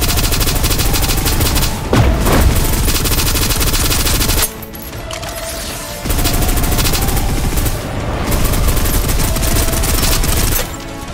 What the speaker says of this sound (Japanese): 制圧射撃を始める。